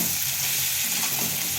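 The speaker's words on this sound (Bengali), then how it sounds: "খুব ভালো করে আমি ভেজে নেব।" Batter-dipped fish roe fries with turmeric in a pan, giving a short, even, close hiss of sizzling oil with no voices.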